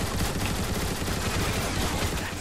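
Turret gun emplacements fire continuously in Transformers War for Cybertron, a dense, unbroken roar of rapid shots at steady loudness, with no speech.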